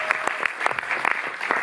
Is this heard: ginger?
no